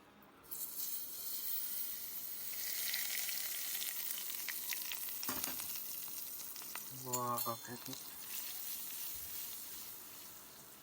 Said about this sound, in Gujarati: થઈ ગયો વઘાર.